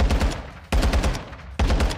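The X13 Auto pistol fires in Call of Duty MW2 in three rapid full-auto bursts of loud, close gunshots, each burst cutting off before the next begins.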